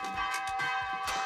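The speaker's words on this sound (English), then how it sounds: "it turns out to be an electronic bell on a timer" An electronic church bell on a timer from The Walking Dead rings in quick repeated tolls, loud and close, with sustained tones over a steady hum.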